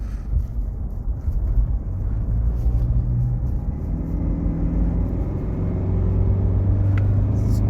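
The 1KD-FTV diesel engine of a 2015 Toyota Prado runs with a slight rattle, a steady close low rumble that carries on throughout under some wind buffeting.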